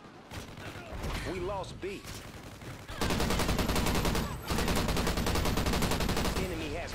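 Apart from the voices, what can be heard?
gunfire from a shooter in a video game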